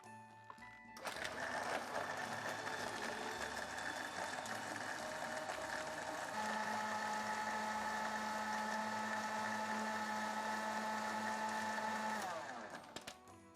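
Blender whirring loudly as it churns an ice cream smoothie, starting up sharply, shifting to a higher steady pitch partway through, then winding down at the end.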